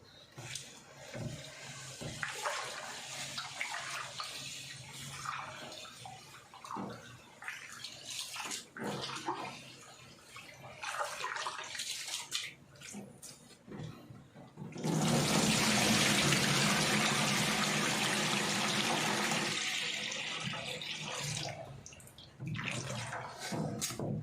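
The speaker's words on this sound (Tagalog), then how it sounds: "Yan, tatlong beses kasi ako maghugas ng kanin" Rice rinsed repeatedly in water, with sloshing and swirling interrupted by scrapes and clunks, then a loud steady stream of water pouring out for several seconds before splashing resumes.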